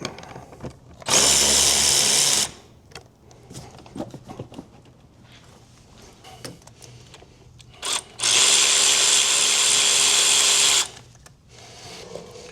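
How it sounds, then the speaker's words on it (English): A cordless driver with a 7mm socket undoes the intake pipe clamps on a 6.7 Powerstroke diesel engine, two loud whirring bursts separated by quieter clicks and handling noises. "next we're gonna take a 7mm. We're gonna undo the clamps that are holding on the actual intake pipe"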